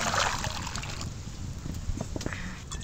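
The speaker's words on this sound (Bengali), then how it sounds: "এবারে অল্প জল দিয়ে দিলাম।" A small amount of water splashes and trickles into a heated pan holding sugar for mango drink syrup, a close, bright pour at the start fading into softer dribbles and light clinks.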